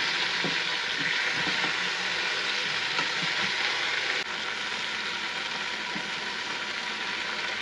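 Beef frying in a pot during a Christmas feast meal prep in America, a loud continuous sizzle filling the whole stretch with faint stirring clinks underneath.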